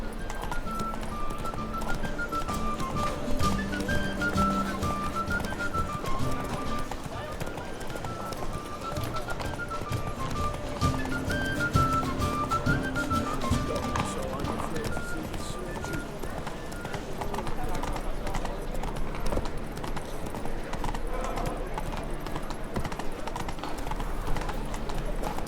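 Hooves of the horse Roach galloping in The Witcher 3, a steady clip-clop rhythm running under game music and occasional speech throughout.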